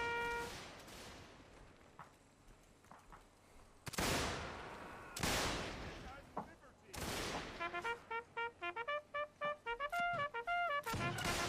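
Period gunfire in Mount & Blade's North & South mod: several loud, sharp shots ring out singly at irregular intervals, and a horn plays a rapid run of notes between the later blasts.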